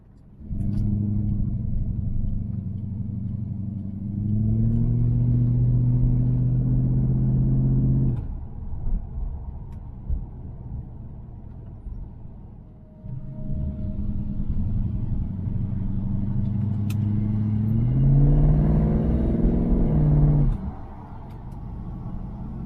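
Road traffic rumbles past outdoors: cars and heavier vehicles swell and fade in long waves of engine drone and tyre noise, with engines audibly accelerating and a steady low roar filling the gaps between passes.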